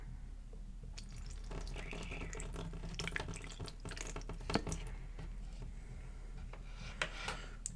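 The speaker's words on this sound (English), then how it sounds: "And we're going to pour some of our water in." Water poured from a mug onto a kitchen counter, a continuous close trickle and splash with scattered drips, fairly quiet and steady throughout, with no voices.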